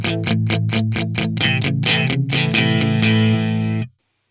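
Distorted electric guitar played through a Fractal AX8 delay with ducker attenuation, a quick run of picked notes repeating in steady rhythm, loud and close, then the tail cutting off abruptly at the end.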